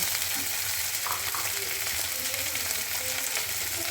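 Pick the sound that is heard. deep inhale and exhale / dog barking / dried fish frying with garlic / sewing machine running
dried fish frying with garlic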